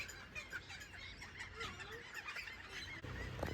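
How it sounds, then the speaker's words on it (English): Birds call and chirp repeatedly over a constant wash of a flowing freshwater stream, the calls fairly faint against the steady background. "enjoying the sound of the birds."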